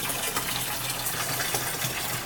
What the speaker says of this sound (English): So there's our filtered drinking water coming through.